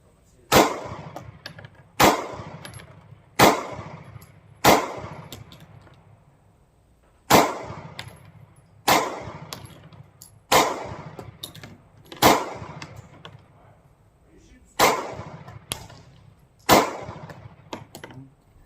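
A Sig Sauer P365 pistol fires Aguila ammunition outdoors. About a dozen loud, sharp shots come at fairly even intervals of roughly one to two seconds, each leaving a short ringing tail. No one talks between the shots.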